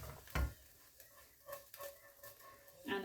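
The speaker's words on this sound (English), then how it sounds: "they've been sauteing until they're nice and soft" Mushrooms for stroganoff soften in a hot pan, a quiet sizzle punctuated by a few stirring scrapes and utensil knocks, close and fairly faint.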